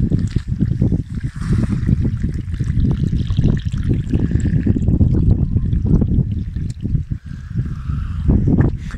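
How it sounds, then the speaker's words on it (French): Rainwater running down a slope and gurgling steadily like a small stream, a busy continuous trickle close by with some wind-like rumble underneath. "Et là, ça ruisselle, mais comme si on avait un petit ruisseau quoi."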